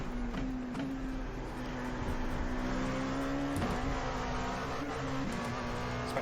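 An LMP2 prototype race car in the iRacing simulator at Watkins Glen, its engine holding a steady high drone with brief gear shifts and revs, loud and close throughout.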